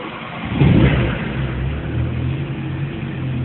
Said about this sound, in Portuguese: Vou dar uma acelerada